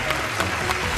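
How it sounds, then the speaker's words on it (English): A quick burst of applause at a radio quiz show, several hands clapping close and loud with a few distinct slaps over a dense wash. "Give yourself a round of applause."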